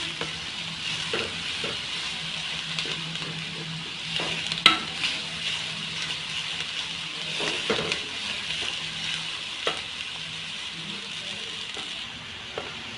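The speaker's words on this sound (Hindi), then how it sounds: "साथ साथ ही हम साइडों से उतारते रहेंगे ताकि ये नीचे भी ना लगे और इसको ब्राउन करते रहेंगे" Chicken pieces sizzle and fry in a karahi for chicken makhan karahi while being stirred and scraped from the sides, with steady frying hiss and occasional clinks and scrapes of the spoon against the pan.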